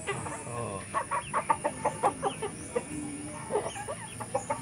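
Native young hens on a farm clucking in a quick series of short, close clucks, with a few softer calls toward the end.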